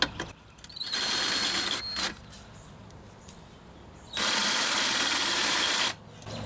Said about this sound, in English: I'm gonna take and drill that out with a half inch bit